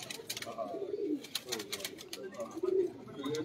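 Large black-faced pigeons, one around 18 years old, give low rolling coos in uneven bursts close by, with background chatter and clatter around them.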